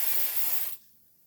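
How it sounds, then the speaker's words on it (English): A short, close hiss of cooking spray onto a pie plate cover, one steady burst lasting under a second before cutting off to near silence. "give my pie plate cover a good spritz of the cooking spray"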